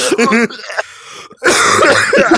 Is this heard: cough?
yes